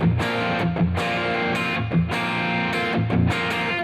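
Chunky distorted electric guitar plays heavy rock chords in short, loud, punchy bursts with brief gaps between them and a tight low end, with no voices.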